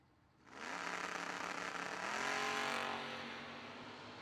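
A Camaro and a Mustang drag race car launch together, a loud rising roar of engines that swells and holds for a few seconds, then slowly fades.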